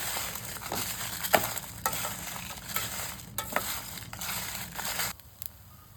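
Dried red chillies fry in a pan for a Telugu pulihora karam, giving a steady sizzle broken by scraping stirs and crackles, close and fairly loud.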